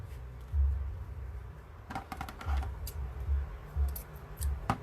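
Dull scissors snip through pieces of moss for a lime green and white moss wreath, giving a series of soft, close clicking cuts in an irregular rhythm over quiet room tone.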